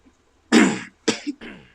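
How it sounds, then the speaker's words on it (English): A person with allergies and mucus stuck in the throat gives several harsh coughs to clear it: one long burst, then two shorter ones after brief pauses, close and fairly loud. "I keep coughing trying to clear it"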